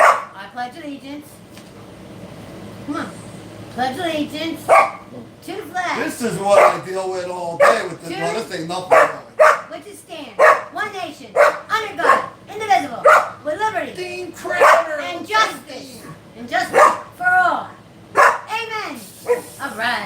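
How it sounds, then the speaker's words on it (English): A pet dog barks, yips and howls in bursts while a man leads a room through a spoken group recitation, the voices and the close, loud dog sounds overlapping the whole time. "That's my dog."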